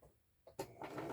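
A sewing machine back-stitching fabric scraps for a journal page, a faint short burst of mechanical stitching that starts after a brief pause and runs to the end.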